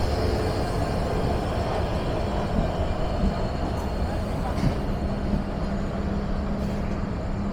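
The Chitra Express, an intercity train from Dhaka, stands at a station platform, filling the scene with a steady, loud, broad rumble and hum that continues throughout without clear speech.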